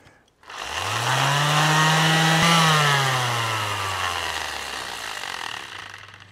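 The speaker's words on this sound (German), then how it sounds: "Selbes Spiel mit einem Exzenterschleifer" A random orbital sander running off an Anker 757 power station spins up quickly, then holds a loud, steady motor whine with a rough, buzzing edge for several seconds, with no talking.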